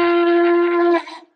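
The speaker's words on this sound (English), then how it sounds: "I'm blowing my conch now." A conch shell blown in one sustained, strong, steady tone with rich overtones, holding for about a second before wavering and cutting off.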